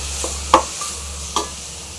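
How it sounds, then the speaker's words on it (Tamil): Tomatoes and onions frying in a pan for carrot and beans paruppu sambar: a constant low sizzle close by, with a few sharp clinks and scrapes of a spoon stirring the mixture. "தக்காளி போட்டு நல்லா ஃப்ரை பண்ணிங்க."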